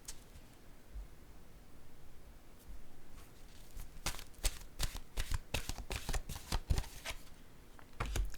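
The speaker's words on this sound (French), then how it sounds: "Je vais piger plutôt une carte de mon oracle de l'âme intuitive." A card is drawn from an oracle card deck, giving soft rustling followed by a quick series of crisp flicks and riffles, close and fairly quiet, with no talk.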